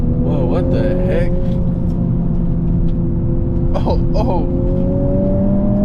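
A new Honda Civic Type R with auto rev matching drives along, its engine holding a steady, loud drone with rising pitch under road rumble, while people in the car talk and exclaim over it.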